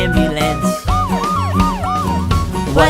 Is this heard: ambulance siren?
yes